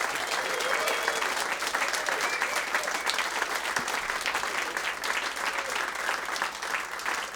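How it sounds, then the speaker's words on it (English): An audience claps at a live conversation event at a radio station's performance space, with steady, dense applause sustained from start to finish at moderate distance. "A big round of applause for Kim Salmon."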